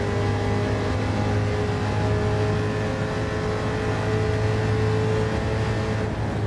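Steady droning engine of a race car in Gran Turismo 7 on a track, a sustained tonal hum with steady pitch as it drives along, continuous and close with no talk.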